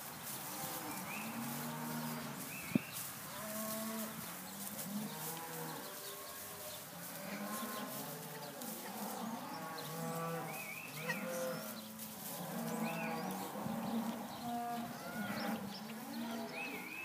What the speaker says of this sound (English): Fifty-one of these heifers in here.